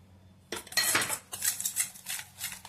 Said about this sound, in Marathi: 1-2 सेकंदसाठी आपण चांगलं फेटून घ्यायचं आहे